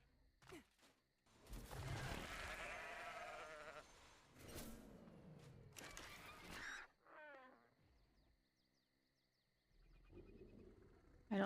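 Sheep in the video game Ark Survival Ascended give several short wavering bleats amid other game noises and bird-like calls, fairly quiet, with gaps of near silence.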